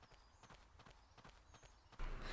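Hooves of a horse thud in a steady clip-clop rhythm across open ground in the survival game Ecos: La Brea, faint and moderately distant, ending in a sudden louder burst of ambient noise.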